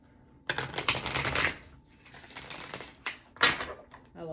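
Oracle cards are shuffled in rapid riffling bursts, first a long run, then a pause and two shorter bursts, crisp and close with a faint voice in the background.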